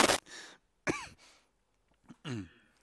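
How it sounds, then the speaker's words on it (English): A person coughs and clears their throat into a microphone in a few short, close, separate bursts with quiet gaps between them. "I think I just coughed"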